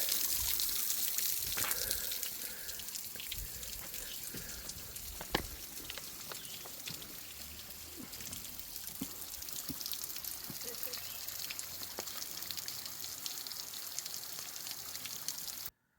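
Water drips and trickles down the rock walls at Tonto Natural Bridge, a steady wet patter and splashing with scattered close drops in a damp outdoor setting, with faint talk now and then.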